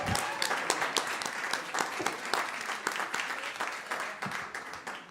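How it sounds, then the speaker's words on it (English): A concert audience claps as a spoken-word group comes on stage, a lively crowd applause with distinct sharp hand claps standing out through the steady roar. "Clap them up onto the stage, please."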